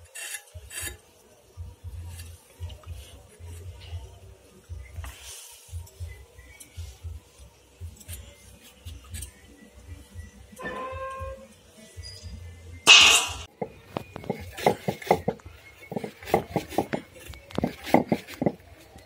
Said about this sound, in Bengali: দেখুন পরিষ্কার করে আলু ধুয়ে নিচ্ছি, কড়ার মধ্যে দিয়ে দেবো।